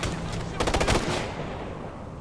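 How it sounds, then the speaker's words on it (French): A rapid burst of machine gun fire in the shooter game Ghost Recon Future Soldier, loud and close, with dense rattling shots over a constant background of game noise. "Quelle est la menace? Mitrailleuse!"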